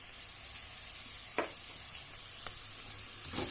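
Sesame seeds sizzle in a hot pan for a soyabean curry, giving a steady soft crackling hiss with a few brief clicks and scrapes of a spoon, close and alone.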